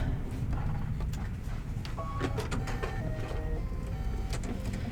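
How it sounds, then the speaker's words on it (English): A Kimberbell embroidery machine sews a raw edge tack-down in a steady, fairly quiet mechanical hum with soft rhythmic ticking and faint whirring, running continuously with no talk. "As it does the tack down, because it is a raw edge tack down."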